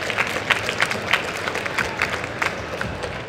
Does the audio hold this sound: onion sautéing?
no